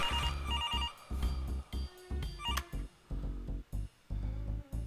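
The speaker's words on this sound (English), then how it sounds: "I got a phone call." A telephone rings in the comedy adventure game Demetrios: The Big Cynical Adventure, repeated bursts of electronic bell trilling in a regular on-off rhythm over background music.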